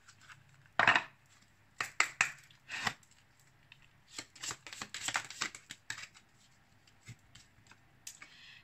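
Oracle cards being shuffled and handled by hand, a quiet series of short papery riffles and taps with pauses between them, close and soft, no voices.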